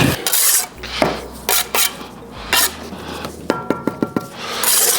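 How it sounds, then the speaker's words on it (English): Gritty rubbing and scraping of a brick against wet mortar, in several short strokes with light taps, close and alone without talk. "Same way, we're going to rub it like this."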